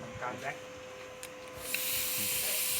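R22 refrigerant hissing out of a Panasonic air conditioner being drained, a steady broad hiss that swells loudly after a few faint clicks and short bursts at the start.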